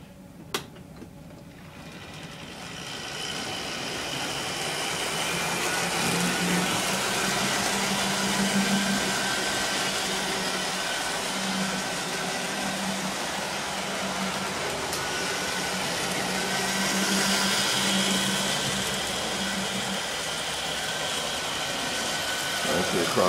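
A model train G5 locomotive's small motor hums and whirs steadily with a low rolling drone, running fast, rising and falling slightly in loudness as it keeps running.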